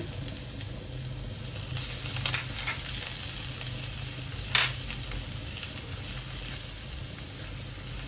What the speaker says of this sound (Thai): เราผัดกระเทียมให้เป็นสีเหลืองนะคะ แล้วก็ส่งกลิ่นหอม